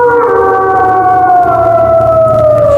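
A loud, drawn-out, wolf-like howl, a werewolf's call to the pack, holds one sustained, slowly falling tone from start to finish with no talk over it.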